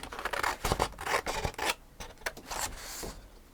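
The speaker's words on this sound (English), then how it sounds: "you don't need to sit here and watch me cut paper" Scissors snipping through paper up close, a series of quick crisp rasping cuts in uneven bursts, fairly quiet with no voices.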